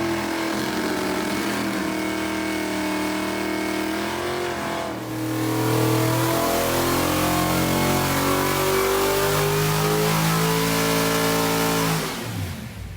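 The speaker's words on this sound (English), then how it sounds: "We're finally going drag racing in my 1968 Dodge Start." A 1968 Dodge Dart's V8 roars loudly at a drag race, its engine note climbing through gears in long sustained revving pulls before cutting off abruptly near the end.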